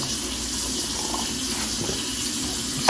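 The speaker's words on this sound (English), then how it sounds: "Turn the water on." Water runs steadily from a kitchen tap in a home kitchen, a loud continuous gush into the sink with no talking.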